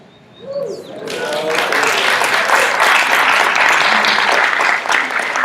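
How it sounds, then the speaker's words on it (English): Audience at a church birthday celebration service breaks into sustained applause after a quiet start, loud and steady throughout, with faint birdsong and a few voices mixed in. "give them another hand of applause"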